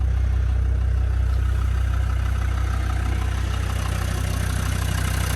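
A high-mileage Land Rover Defender 90 TD5 diesel idles with the bonnet up, a steady low rumbling drone with a faint rhythmic clatter, close and constant throughout.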